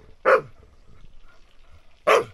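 A dog by a garden pond in Portugal gives two sharp, loud barks about two seconds apart, with quiet background between them.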